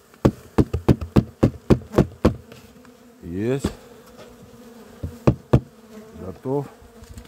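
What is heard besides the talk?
honeybees buzzing as they are shaken into a hive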